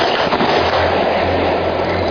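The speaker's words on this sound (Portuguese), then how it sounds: "alguém solta fogos de artifício em direção à luz" Fireworks are set off toward a light in the night sky over the Amazon, a loud, dense crackling burst of bangs with a steady low hum underneath, close and continuous.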